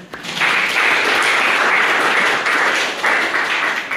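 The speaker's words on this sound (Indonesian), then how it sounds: "Oke, aplaus dulu." An audience in a university Pancasila education lecture breaks into loud, sustained applause that swells quickly and holds steady for several seconds.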